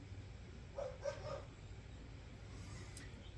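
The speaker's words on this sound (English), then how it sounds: "Excuse the dog. He just got home and he's very excited." A dog gives three quick, faint yips in a row, fairly distant, over a steady low room hum.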